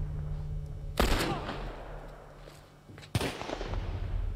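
Two sharp, loud gunshots in The Last of Us Part I, spaced about two seconds apart, each cracking suddenly and ringing out into a fading echo over a low steady hum.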